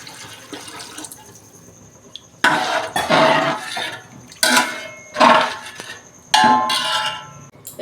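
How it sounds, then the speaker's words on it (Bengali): Two bowls of water poured into a cooking pot for homemade pulao, a close splashing gush in several separate bursts with short pauses between, each pour loud and broadband, no talking. "এই যে 2 বাটি জল দিচ্ছি।"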